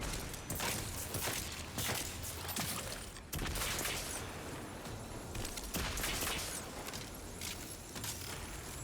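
Weapon fire in the video game Destiny 2 in a dense, continuous barrage, with rapid shots and impacts overlapping into a steady, roaring wash of noise and occasional sharper cracks.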